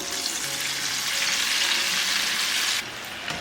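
Pork pieces for sweet and sour pork plunge back into reheated hot oil for a second fry, a loud, dense hiss and bubbling sizzle that drops away sharply near the end as they come out.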